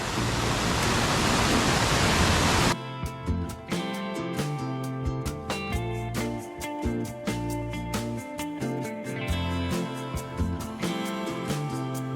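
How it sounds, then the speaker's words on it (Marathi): A rain-swollen stream in a Konkan village rushes in a loud, dense roar for the first few seconds, then music takes over. "आता हा जोरदार पाऊस लागला त्याने बघा पर्याना किती पाणी वाढलेलं आहे"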